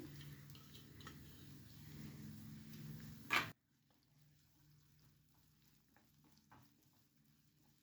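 Chopped onion and a sprig of curry leaves sizzle loudly in a hot pan for about three seconds while a prawn thokku is cooked, then the frying drops away to a quiet kitchen with faint clinks.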